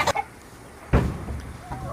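Layer chickens cluck and squawk while attacking a hen of a different breed, with sharp close bursts of agitated clucking spaced across the moment.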